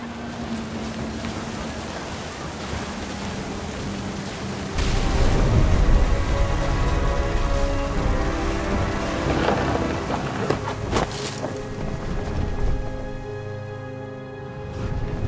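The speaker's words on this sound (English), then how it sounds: "The thunder sounded much too close and full of angry power." A thunderstorm with rain in the video game What Remains of Edith Finch, a steady wash of rain under a deep rolling boom that swells loud and close, then settles back into a continuous downpour, with no voices.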